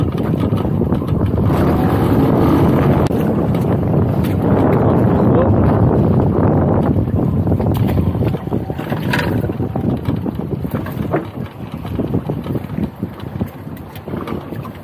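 Steady wind roars across open sea around a fishing boat, a loud continuous rush with gusting buffets on the microphone, easing slightly partway through, with no voices.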